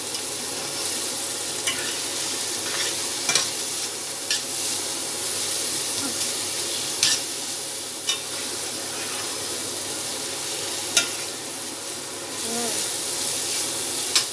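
Grated carrot halwa fries and is stirred in a pan, a steady loud sizzle and hiss running throughout with occasional light scrapes of the spoon against the pan.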